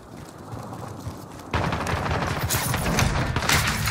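Gunfire in the Rebirth Island battle royale game breaks out abruptly partway through, turning into a dense, loud stretch of rapid shots and crackling bursts that continues to the end after a quieter opening.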